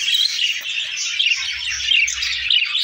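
A young Texas pigeon, about five to six months old, gives a steady run of high, squeaky chirps with no pause, close and moderately loud, while a faint low rumble shows up partway through.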